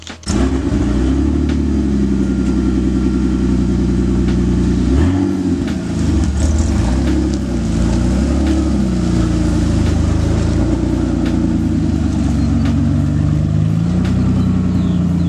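BMW 335i engine running as the car is driven off, a loud close drone with rising and falling revs and shifting tones under acceleration, continuous throughout, with no talking.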